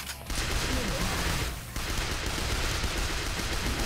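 Rapid SMG fire from the Zombie Hunter video game, a dense steady burst of quick shots running almost the whole time with a brief pause partway through, moderately loud and with no talk over it.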